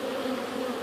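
Honey bees buzz in a dense, steady drone during a backyard inspection of a large hive, the swarm sound close and continuous with no talking.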